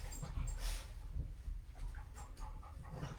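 Dogs pant and whimper quietly nearby during an indoor yoga session, a soft uneven breathing rhythm over low background noise.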